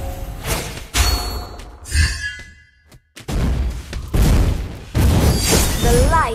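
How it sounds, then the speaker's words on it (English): A turret is destroyed in Mobile Legends: Bang Bang, with heavy thumps and booming impacts in loud bursts, broken by a brief quiet gap, then more crashing game effects. "Your team destroyed a turret."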